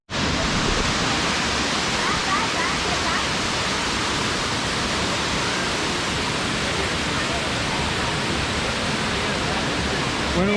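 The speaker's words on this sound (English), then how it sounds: "isn't it a pretty amazing looking waterfall right here?" A busy waterfall in Great Smoky Mountains National Park roars as a dense, constant rush of falling water, loud and unbroken throughout with no pauses.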